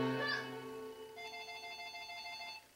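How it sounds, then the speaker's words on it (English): A mobile phone rings with a steady electronic ringtone, its bright repeating tones sustained for a few seconds at close range with no talking over it. "And that's my phone, so I better check it."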